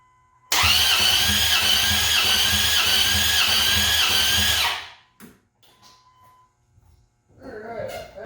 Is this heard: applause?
no